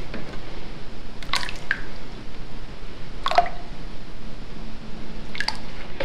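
Liquid starch being added to water in a vat for making handmade paper with flower petals: a few sparse, soft drips and splashes, spaced seconds apart over a faint background hiss.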